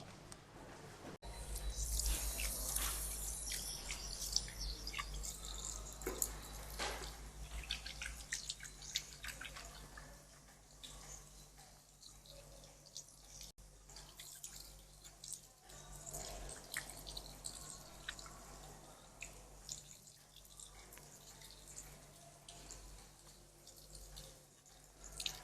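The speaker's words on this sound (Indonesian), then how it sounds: "Saya permisi cuci tangan dulu" Faint running water from a tap as hands are washed in a health clinic examination room, with soft dripping and splashing trickles throughout, quiet and somewhat distant, no clear talking.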